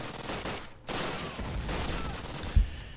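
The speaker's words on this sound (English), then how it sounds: "who shot at me?" Enemy soldiers firing at the player in the video game Call of Duty, a brief lull and then a dense, sustained burst of gunfire with one sharper report near the end.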